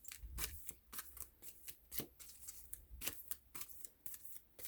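Oracle cards are shuffled and drawn by hand at close range, a quiet run of crisp riffling flutters and soft slaps in an irregular rhythm with no voices over them.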